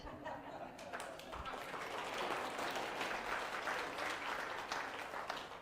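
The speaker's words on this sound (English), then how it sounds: "We like to clap, not always on the beat," Audience clapping fills the room, a dense, steady wash of many hands that stays loud and continuous from start to finish, uneven in rhythm, with no talk over it.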